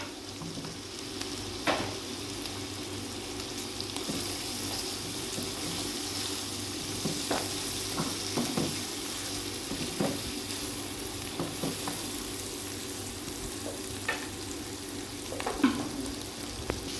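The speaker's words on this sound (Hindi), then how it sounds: "इनको अच्छी तरह भूनेंगे इनको" Minced meat fries in a pan for bhindi keema, cooked dhaba style, with a steady, close sizzle throughout and occasional scraping clicks as it is stirred.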